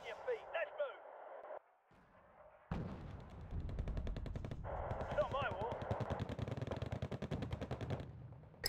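In the game Wargame: Red Dragon, a Bofors autocannon fires incendiary rounds in rapid rhythmic bursts, loud and close, with earlier bursts and pauses giving way to a sustained string of shots; a voice speaks briefly near the start.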